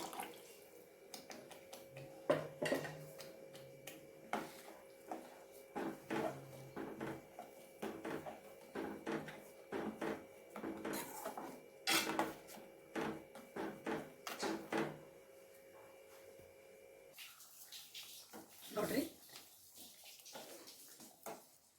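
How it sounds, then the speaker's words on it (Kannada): Spinach gravy for potato-spinach curry boiling in a pan over a medium flame, with steady close bubbling and irregular popping bursts that thin out toward the end. "ನೋಡ್ರಿ ಈ ರೀತಿಯಾಗಿ ಕುದಿತಾ ಇದೆಯಲ್ಲ"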